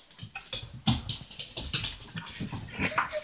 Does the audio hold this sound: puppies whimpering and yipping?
yes